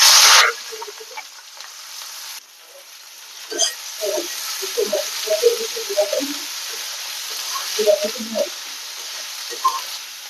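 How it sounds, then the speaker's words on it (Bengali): Onions fry in a pan during home cooking, giving a soft, crackly sizzle with scattered pops and stirring clinks after a short loud burst at the start. "পেঁয়াজ ভাজা হয়ে গেছে"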